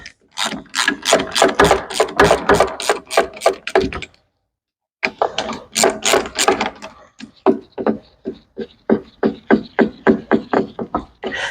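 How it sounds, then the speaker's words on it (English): A ratchet wrench fitted with a 10mm socket works a bolt loose on a Honda HRX217 lawn mower, giving loud, rapid clicking bursts, a brief pause, then steadier spaced clicks close up. "I got a 10mm socket here. Let's get rid of this."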